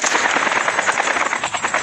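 A helicopter in the Call of Duty Mobile video game roars loudly and continuously, its rotor throbbing in a rapid pulse that fills the whole stretch.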